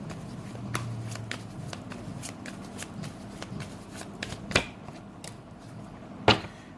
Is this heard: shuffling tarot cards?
yes